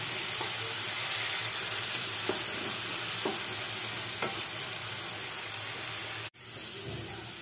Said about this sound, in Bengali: আলু আর নুন আর হলুদ দিয়ে আলুগুলোকে একটু ভাজছিলাম।